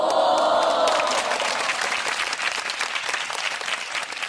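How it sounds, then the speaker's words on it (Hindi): A crowd bursts into applause, dense continuous clapping that stays fairly loud and even for a few seconds, with no talk over it. "तालियां होनी चाहिए इनके लिए"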